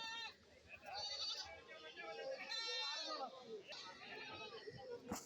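Goats bleating at an outdoor goat market, with large billy goats tied up nearby; several bleats rise and fall over a busy crowd of people chatting and children's voices throughout.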